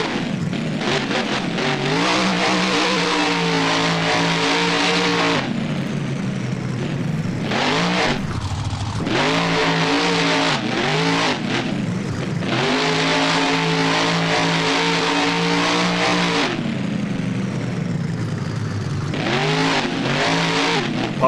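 Monster truck engine in the BeamNG driving game during a freestyle run at Soldier Field, roaring and revving hard in repeated surges, pitch climbing and dropping between bursts, loud and close throughout with no talk.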